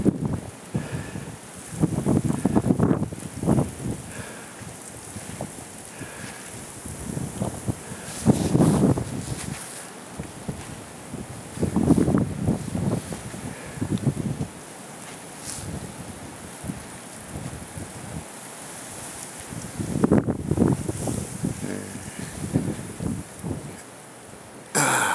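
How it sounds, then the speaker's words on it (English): Strong wind during a nighttime blizzard in Des Moines, Iowa, buffets the microphone in irregular rumbling gusts that swell and fade over a steady hiss. "Actually, the wind's dying down a little bit right now."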